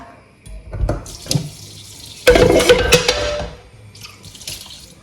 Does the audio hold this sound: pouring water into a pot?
yes